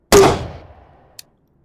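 A single loud boom of a smoke round fired in the video game Tactical Assault, with a sharp crack decaying into a rumbling tail and a faint click about a second later.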